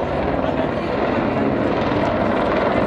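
Display aircraft engine noise at an air show as the plane performs a roll manoeuvre, a loud, steady broadband roar held throughout, with a commentator's voice over the top.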